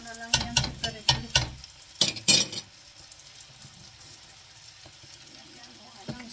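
Beef stir-fried in a pan with a quick run of loud spatula clanks and scrapes at the start, then a low, steady sizzle with an occasional clink near the end.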